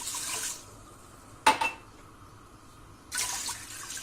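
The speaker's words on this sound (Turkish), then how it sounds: "Şöyle 2 su bardağı suyumu da ilave edeceğim." Water is poured into a pot of washed rice for rice pudding, with a few splashing pours separated by pauses and a brief clatter of the pot, close and fairly loud.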